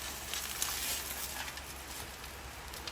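Thin ribeye steak sizzling in a hot pan, a continuous bright, even crackle with small pops, heard up close but at low volume, with no talking.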